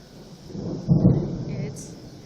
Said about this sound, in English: it's getting ready to rain. We got some really wicked storm clouds over here.